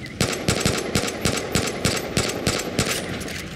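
Rapid automatic gunfire in the video game Far Cry 5 rattles in a steady stream of evenly spaced shots, fairly loud, with no voices.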